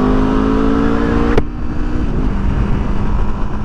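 A 2021 Aprilia RSV4 1100 Factory motorcycle engine drones loud and close with a steady humming tone, then a sharp click and a slight drop in pitch as the revs ease off, with no speech.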